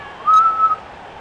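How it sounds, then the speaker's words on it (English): A referee's whistle in a football video game gives one short, clear shrill blast with a brief dip in the middle, loud and alone over a quiet background. "Sound the whistle."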